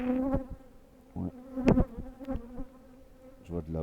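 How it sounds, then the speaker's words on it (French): A wasp buzzes around food, a thin close drone rising and fading in short bursts amid faint clicks and background noise. "Il y avait une guêpe encore."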